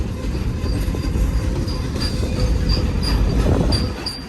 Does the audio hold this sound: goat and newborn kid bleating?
no